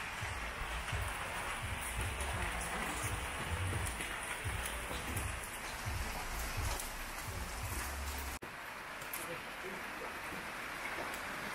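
Rain falling steadily beside Lake Atitlan in Guatemala, a dense continuous hiss with no distinct drops, heard from a lakeside eating spot with low rumbling background underneath.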